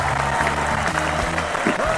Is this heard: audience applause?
yes